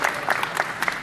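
Audience applause at a DragonCon convention panel, a brief burst of many hands clapping from a crowd, steady and fairly close, with no voices over it.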